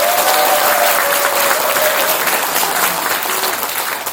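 An audience at a civic town-hall gathering in Dong-gu, Ulsan, breaks into sustained, dense applause that stays loud throughout and eases slightly near the end.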